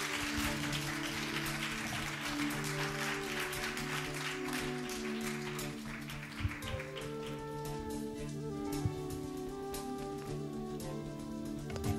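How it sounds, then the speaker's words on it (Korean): Church congregation at a Sunday afternoon worship service applauding to welcome a guest pastor, steady clapping throughout, fairly faint and distant, with a sustained musical tone running underneath. "자, 나오실 때 큰 박수로 맞이하시겠습니다."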